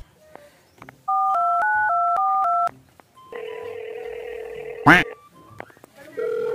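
A cellphone being dialed: a rapid run of keypad tones, then a long steady tone, a sharp click or knock, and another tone, all loud and close with brief gaps between.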